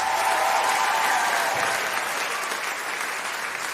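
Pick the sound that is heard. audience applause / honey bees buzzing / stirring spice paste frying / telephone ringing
audience applause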